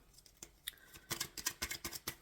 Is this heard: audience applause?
no